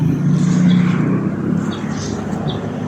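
Cars and other vehicles pass along a busy roadside street where someone is eating outdoors, a steady low engine rumble with passing swells against windy background noise.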